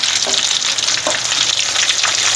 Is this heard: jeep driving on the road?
no